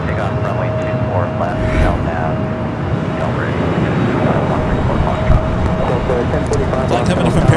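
Air France Boeing 777-300ER heavy jet arriving at Los Angeles LAX, a loud continuous engine rumble that builds slightly toward the end, with a voice talking over it.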